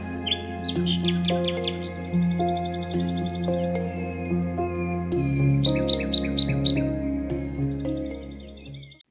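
Amazon rainforest birds, such as toucans and macaws, call and chirp in repeated bursts over a steady droning forest backdrop, with sharper clustered tweets late on, loud and close.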